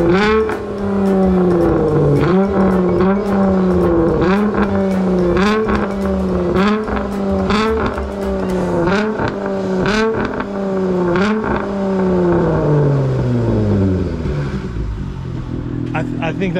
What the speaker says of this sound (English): I could not be more happy with the exhaust